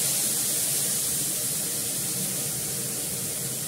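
Water poured from above onto ground mustard paste, a steady broad splashing hiss that runs evenly and fairly loud for a few seconds.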